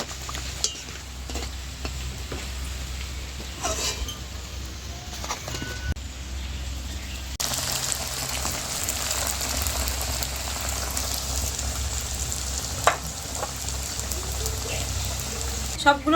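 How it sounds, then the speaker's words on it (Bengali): Semolina and egg snacks sizzle steadily in hot oil, a continuous crackling fry with occasional clinks and stirring scrapes, growing slightly louder partway through. "সবগুলো লাল লাল করে ভেজে নেব।"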